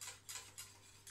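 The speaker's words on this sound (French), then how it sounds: "Donc là, on remue. On remue bien, on remue bien, on remue bien." A gelatin mixture being stirred, heard as faint, close spoon scrapes sweeping around a pot in a few slow, regular strokes over a steady low hum.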